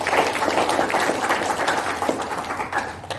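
Sustained applause from a large seminar audience, dense continuous clapping, loud and steady for several seconds with no speech over it.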